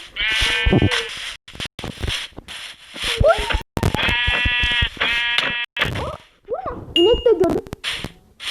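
Loud, quavering sheep bleats repeat close by in a series of calls with short gaps between them.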